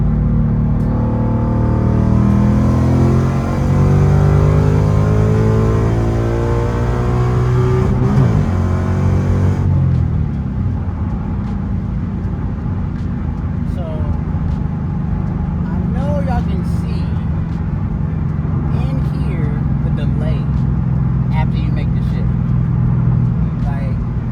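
Ford Mustang GT S650 with a manual clutch pulling away and shifting, a deep engine drone rising in pitch, dropping at a gear change near ten seconds, then a lower steady rumble with road noise.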